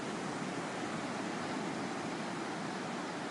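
Ocean waves in a guided meditation make a continuous, even wash of broadband surf noise, steady and moderately soft with no distinct breaks.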